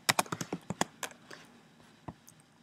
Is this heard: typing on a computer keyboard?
yes